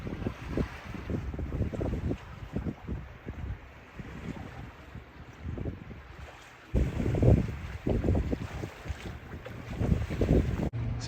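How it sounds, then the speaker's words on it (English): Sailboat under way past Tortola in the Virgin Islands, with gusty wind buffeting the microphone and water rushing and splashing against the hull in irregular surges, fairly loud and close. "So now we are sailing past Tortola"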